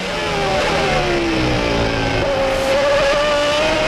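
1995 Formula One cars racing at the European Grand Prix, with Schumacher braking late behind Damon Hill near a chicane: loud, close high-pitched engine wail with falling then rising pitch as the cars brake and accelerate, continuous and dense.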